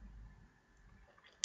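A single sharp mouse click lands right at the end, loud and close, after near-silence with a faint low hum.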